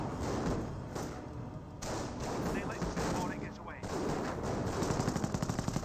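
Dense battle noise from the real-time strategy game Company of Heroes, with rapid gunfire and thumping impacts under continuous commentary, and a quick burst of automatic fire near the end.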